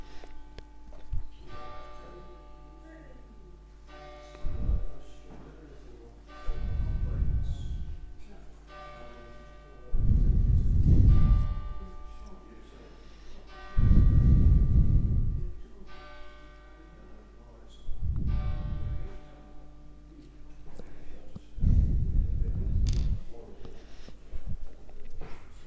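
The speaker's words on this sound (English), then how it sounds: "That's the quartal bell striking noon." A clock's quarter bell strikes noon near a Mudge gravity escapement, loud resonant bell tones repeating about every four seconds and ringing out over a faint steady ticking and a low hum.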